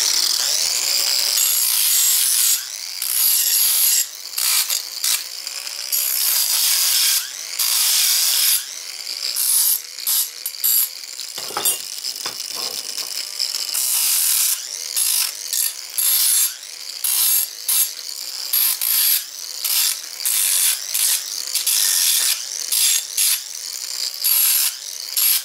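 Makita 7.2 volt cordless grinder from around 1993 grinding metal, a steady high whine broken by many short bursts and pauses as it bites, loud and close with no talk.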